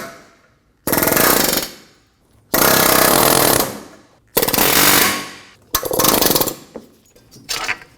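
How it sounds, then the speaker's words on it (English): An air hammer with a chisel driving out a rear wheel bearing on a 2014-2018 Subaru Forester, loud rapid hammering in five separate bursts with short pauses between. "we're going to use this chisel to push up and in"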